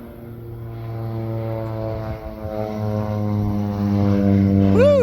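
Crop-spraying propeller plane flying low over a mustard field, its droning engine growing steadily louder as it approaches, then sweeping past overhead with a sharp pitch drop at the end.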